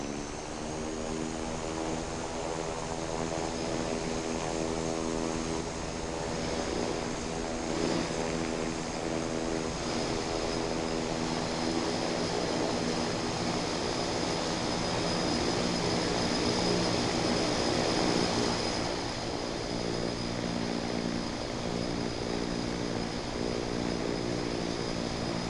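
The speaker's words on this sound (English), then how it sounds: "Jazz 1027 is taking off runway 26 left, departing north." Air Canada Express Q400 turboprop taking off in the Infinite Flight game, a loud continuous propeller drone with a steady engine whine that swells slightly and stays constant throughout, with no speech.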